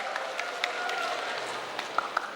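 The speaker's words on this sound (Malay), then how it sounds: "Tepukan gemuruh sekali untuk tahniah kepada pelajar wanita semua." Thunderous applause from an audience at a school independence-night ceremony congratulating female students: a continuous roar of clapping with a few sharper, louder claps standing out near the end.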